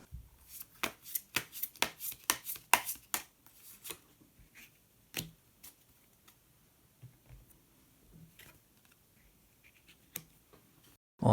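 Tarot cards shuffled and handled at close range, a quick burst of crisp riffling slaps for the first few seconds, then sparse soft taps and flicks as a hidden card is drawn from the deck.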